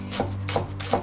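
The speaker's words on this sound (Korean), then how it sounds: "깻잎도 가늘게 채 썰어주세요." Rolled perilla leaves sliced into fine strips in a home kitchen: three soft, evenly spaced cutting strokes, close but quiet, over a faint steady hum.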